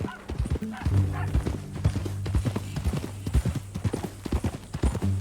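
Horse hooves clip-clopping in Red Dead Redemption 2, a steady near rhythm of distinct hoof strikes on the ground with no talk over them.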